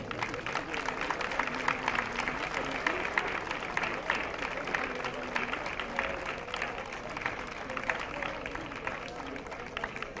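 Steady, dense applause from a crowd at an award ceremony honoring elderly people, sustained at an even level for about ten seconds, with murmured voices mixed in underneath.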